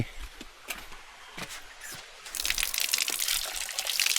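Hot water starts gushing from a tap after a few light knocks and clicks, then flows steadily and fairly loud until the end.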